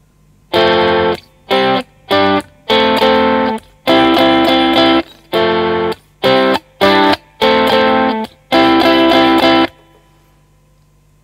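Electric guitar strums the verse chords of a song, short bursts of chords each cut off by muting, a choppy stop-start rhythm of about ten hits, loud and close with effects.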